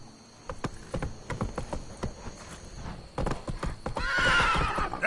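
A horse named Roach clip-clops with quick, rhythmic hoofbeats close by, then lets out a whinnying neigh at the end.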